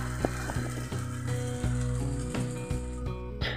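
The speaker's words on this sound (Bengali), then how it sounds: "এবারে ফ্লেমটাকে লো রেখে দিয়ে দিলাম তৈরি করা ধনের পেস্টটা" Coriander paste frying in a pan over a low flame for a paneer dish, a close, steady sizzle with a few light stirring taps.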